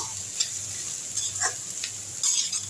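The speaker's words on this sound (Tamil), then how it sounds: "இப்போ தேங்காய் துருவலை போட்டுடலாம் போட்டு ஒரு ஒரு நிமிஷம் கிண்டுவோம்" Grated coconut is stirred into vegetable poriyal in a hot pan, with a soft, continuous sizzle and a few light spoon clicks and scrapes against the pan.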